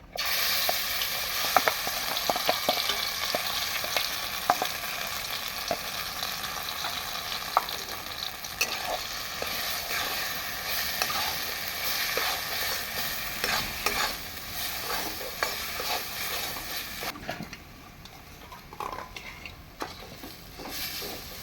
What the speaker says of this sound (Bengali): ডাল বাটাটা একটু নাড়িয়ে নিয়েছি।